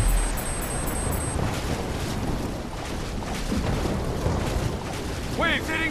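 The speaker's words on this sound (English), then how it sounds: "Waves hitting now." Waves surge and crash in a Call of Duty Black Ops 3 combat scene, a loud, constant roar of churning water with wind noise, alongside beeping interface tones and brief chirping electronic sounds.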